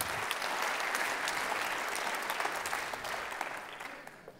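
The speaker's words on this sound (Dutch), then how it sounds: "En nou u toch aan het klappen bent, doet u dat dan ook voor onze derde spreker" An audience claps steadily for the third speaker at a Brabants Dagblad college on pensions at Tilburg University. The sustained applause from a full room fades slightly toward the end.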